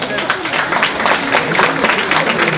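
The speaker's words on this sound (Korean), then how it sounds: "박수 한번 보내주시죠." Audience applause at a Korean citizens' public forum, a short stretch of dense clapping with some crowd murmur mixed in.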